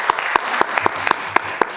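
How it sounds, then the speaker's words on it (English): Sparse applause at a board meeting, a handful of separate claps about four per second, fairly close and steady with a small-room feel. "Give yourselves a round of applause for coming out."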